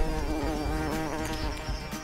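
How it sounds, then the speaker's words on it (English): A dense, close buzzing of insects, like a swarm of bees, droning steadily with slight wavering throughout. "Bees are getting angry."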